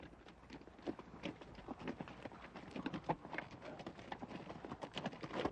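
Horses or mules walking along a Grand Canyon trail, a steady, close clip-clop of hooves on rocky ground that runs through the whole stretch without a break.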